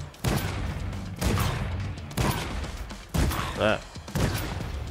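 A shotgun fires five times at steady intervals in the Dreams game Zombie Hunter. Each blast is sharp and close, with a brief word spoken between shots.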